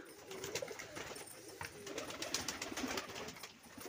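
Several pigeons coo softly in a coop, low murmuring calls overlapping amid faint rustling and shuffling.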